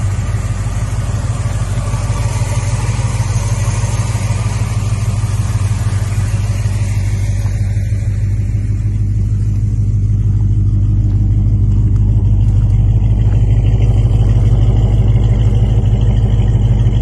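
A 1970 Dodge V8 engine with a newly fitted carburetor runs steadily at close range during tuning. Its deep, even idle rumble holds throughout and grows slightly louder and fuller toward the end, with no voices.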